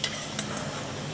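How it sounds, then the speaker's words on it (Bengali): Lentil cakes (dhoka) frying brown in hot oil, a dense steady sizzle with light stirring scrapes, close and even throughout the short stretch. "এরকম করে সব কটা বড়া ভেজে নেব।"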